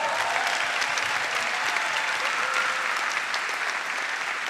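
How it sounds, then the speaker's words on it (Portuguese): Theatre audience at a stand-up comedy show applauding, a dense, steady wash of many hands clapping close and loud throughout, with no speech over it. "uma salva de palmas"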